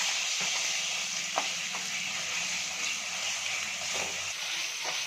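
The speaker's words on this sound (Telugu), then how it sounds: "వేగిన తర్వాత చింతకాయ ఉప్పు చింతకాయ వేసి బాగా కలుపుకోవాలి" A spoon stirs salted tamarind into a frying mixture in a pan, with a continuous sizzle and hiss broken by a few faint scraping knocks of the utensil, close up and with no talking.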